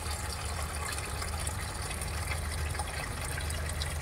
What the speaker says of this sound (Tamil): தண்ணியாக வருது. பைப்பை திறந்து விட்டமே அடிக்குது